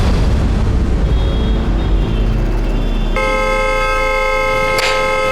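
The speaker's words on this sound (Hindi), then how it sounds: "नॉन स्टॉप हॉर्न बजा रहा है।" A car horn blares continuously and loudly, close by, its tone changing partway through but never letting up.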